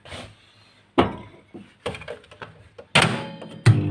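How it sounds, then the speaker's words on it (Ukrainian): Several sharp thunks and clunks of a microwave oven door being handled and shut, the loudest knocks near the end. "Також ставимо мікрохвильовку"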